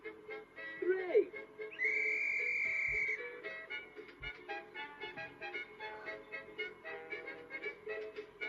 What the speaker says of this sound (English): after 3 I'm going to blow my whistle